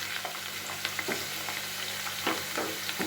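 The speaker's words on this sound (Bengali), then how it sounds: "এখানে আলুটাকে কিছুক্ষণের জন্য ভাজতে দিয়েছিলাম।" Potato pieces fry in hot oil for a Bengali bitter gourd and potato curry, a constant close sizzle with light stirring clicks and scrapes throughout.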